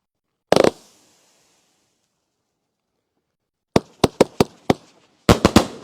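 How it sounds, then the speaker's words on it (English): Big Boom fireworks by Super Fireworks going off: one sharp loud bang, a pause, then a rapid string of five cracking booms and a final cluster of three more, close and alone. "Next one up is the Big Boom by Super Fireworks."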